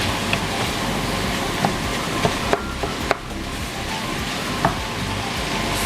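Ground pork and pork belly frying in a pan over medium-high heat, a steady dense sizzle with a few sharp ticks and pops scattered throughout, no talking.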